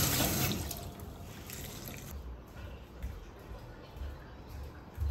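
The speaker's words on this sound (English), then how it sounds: "Alright, add a bit of water." Water runs steadily into a bucket holding floor cleaner and a splash of bleach, a continuous close splashing rush with no speech over it.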